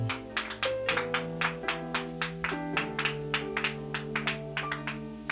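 A church congregation claps in a steady, even rhythm to acclaim Jesus as king of kings, with clear repeated claps over sustained music and no speech.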